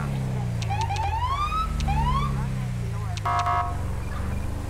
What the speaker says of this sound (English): I think we're still using the same standard LSP GTA5 sirens